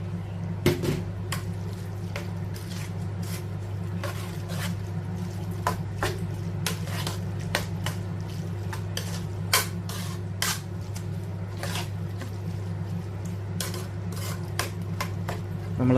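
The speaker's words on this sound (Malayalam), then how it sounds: "നമ്മൾ നന്നായിട്ട് മിക്സ് ചെയ്തിട്ടുണ്ട്." A spoon repeatedly scrapes and clinks against a bowl while mixing fermented rice gruel (pazhankanji) with curd, salt and water, irregular close taps over a steady low hum.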